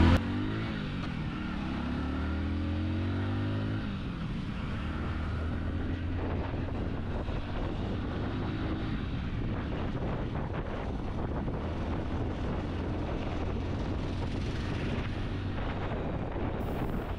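A Hero Splendor Plus motorcycle runs steadily while being ridden, its engine a low, constant drone mixed with heavy wind buffeting on the microphone, no talking.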